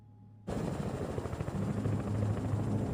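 A helicopter flying during the 9/11 emergency response cuts in abruptly after a quiet moment, its rotor beating as a loud, steady chop with a constant engine roar that keeps up to the end.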